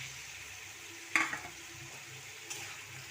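Fried puti fish goes into a pan of spicy sauce, a faint, steady sizzle with a soft thump and a couple of light stirring scrapes.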